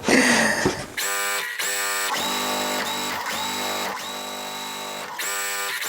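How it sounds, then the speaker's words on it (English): A sewing machine stitches quilt block pieces in several short, even bursts, its rapid mechanical chatter stopping and restarting close by with brief pauses between runs. "We're going to sew our shorter piece on top and our longer piece to the left."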